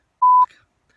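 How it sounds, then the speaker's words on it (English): A single short, pure electronic censor beep sounds alone, cutting over a swear word, then stops abruptly. "I will beep all those out."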